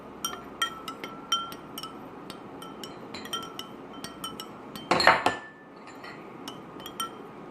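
Repeated light clinks of a spoon tapping against a glass while stirring rice in water, with a brief louder rattling swirl midway.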